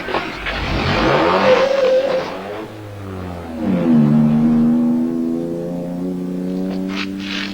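A race car engine revs up and down loudly and close, rising and falling in pitch as it accelerates, then holds a strong sustained drone.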